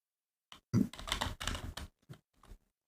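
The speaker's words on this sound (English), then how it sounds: "I think they're just typing it up." Quiet keyboard typing, a short burst of key clicks with brief pauses, close and alone without talk.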